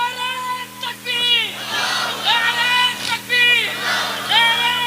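A large crowd at a religious speech gathering shouts a slogan in unison, loud rhythmic group calls rising and falling in repeated waves, each burst a chorus of many voices.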